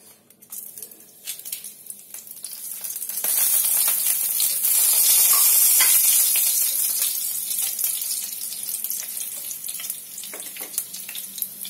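Whole cumin, bay leaves and a dried red chilli hit hot oil for tempering a fish head moong dal, the sizzle swelling into a loud, bright crackling hiss that slowly eases off, with no talking.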